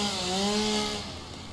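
A chainsaw in the video game Satisfactory cuts loudly and close, a buzzing motor whine that holds steady then drops in pitch as it winds down, heard alone.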